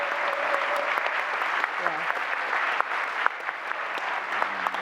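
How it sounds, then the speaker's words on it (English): Sustained audience applause at the close of an annual education-technology debate on AI in learning, steady and dense for the whole stretch, with a few faint voices mixed in. "So a big round of applause,"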